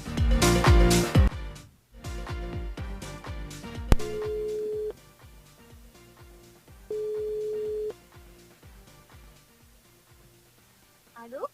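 A telephone call is placed during a live radio show, with tones, then long repeated ringback beeps over background music and noise.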